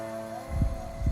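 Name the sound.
heartbeat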